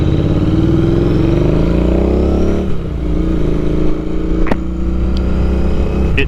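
A Royal Enfield Interceptor 650 parallel-twin motorcycle engine runs loud and close, a steady throbbing drone that rises in pitch under acceleration, dips briefly, then settles back, with faint clicks on top.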